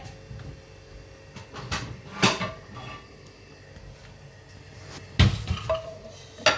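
A spinach börek being flipped over in a pan, with a few sharp clattering knocks and scrapes of the pan and utensils over a soft, steady sizzle in the background.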